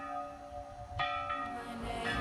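The San Macario church bell in Andorra, Teruel, rings out with a few bright metallic strikes, each leaving a long humming decay that overlaps the next, heard with no voices.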